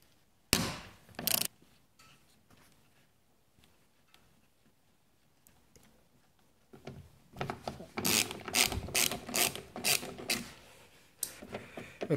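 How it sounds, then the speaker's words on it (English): Ratchet clicking in bursts while loosening the two bolts on the door handle actuator of a 2008 or later Cadillac CTS, close and fairly quiet, a short burst early and a longer run of rapid clicks later. "We take out the actual actuator by loosening these two bolts right here."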